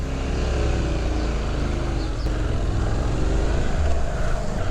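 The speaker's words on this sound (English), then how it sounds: "It's got a lovely throaty growl, this" Honda NC750X motorcycle engine giving a steady, throaty low growl at low revs, continuous and fairly loud throughout with no talk.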